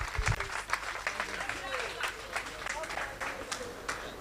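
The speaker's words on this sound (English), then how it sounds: "If you trust and appreciate the police, clap for them." A crowd at an outdoor broadcast event claps for the police, scattered, uneven applause that comes in bursts, with voices talking over and around it.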